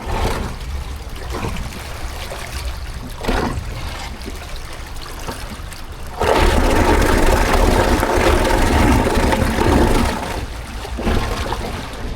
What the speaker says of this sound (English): It was such a good feeling to see the water flowing back into the lock pounds